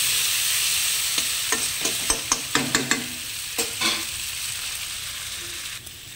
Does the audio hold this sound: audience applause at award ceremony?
no